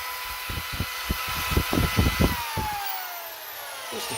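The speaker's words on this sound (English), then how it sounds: "I just got my drill out and found a drill bit that was a little bit smaller than that" A power drill with a bit cleaning rust and debris out of a brake caliper bore on a Starion Conquest, heard as a whining motor with rough grinding bursts that come and go, then a falling whine as it spins down, close and loud.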